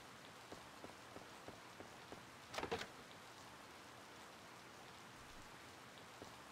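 Steady rain falling in the farming game Harvest Moon: Light of Hope, a soft continuous patter of raindrops with one brief louder burst near the middle, faint and even, with no voices.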